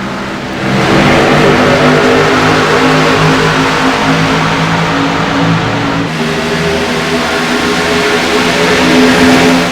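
NASCAR Xfinity race cars roaring around Talladega in the iRacing sim, a dense pack of engines droning loudly and steadily at high revs for the whole stretch with no talk.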